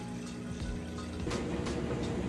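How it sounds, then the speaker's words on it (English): Water splashes and churns inside a Maytag Bravos washer running its rinse cycle, a steady close wash of liquid sound with a faint trickle and no one speaking. "allow it to move through the rinse cycle now and get all that soapy water rinsed out"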